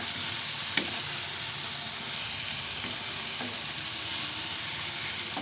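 Cabbage and egg sizzle steadily in a frying pan, with a few soft scrapes of stirring over the continuous hiss.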